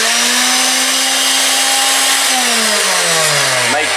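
A modified bandsaw runs loud and steady with a strong motor whine, then the pitch sags as the blade bites into clamped stock near the end, with no talking.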